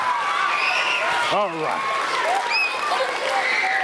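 Children in a school audience at a science show clap and cheer in a brisk burst, with excited voices and an adult speaking briefly over the noise.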